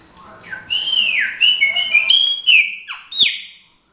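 A loose chopi blackbird (pássaro preto) sings in a kitchen atop cooking pans, giving a loud, close run of bright whistled phrases with sliding notes and short chirps in quick succession.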